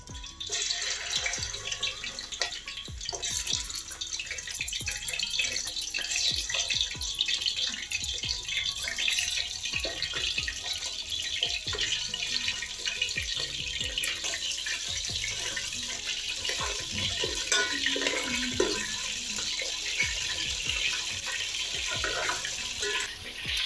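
Fish pieces fry in hot oil with mustard seeds, giving a dense, continuous close sizzle and hiss that holds steady throughout, with crackling pops scattered through it.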